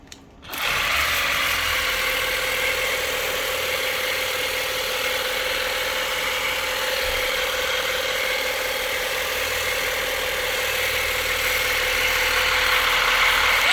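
A Ryobi EZ Clean cordless power washer rinses indoors through a 15 degree nozzle, a steady, loud motor whine and hiss of spray running unbroken after a brief start.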